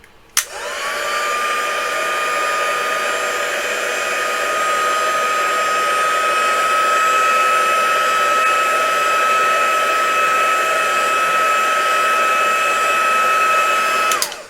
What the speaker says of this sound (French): je vais passer un coup de pistolet chauffant qui sert normalement pour faire de l'embossage à chaud